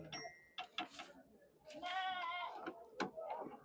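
Goats bleating at a goat market, several loud wavering calls close by in quick succession, mixed with people talking nearby.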